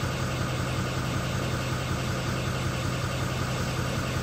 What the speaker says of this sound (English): Idling at 639 RPMs.